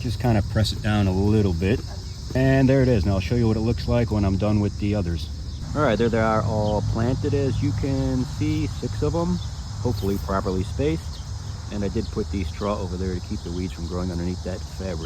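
A continuous high insect drone, like cicadas, runs steadily in the background beneath someone talking throughout.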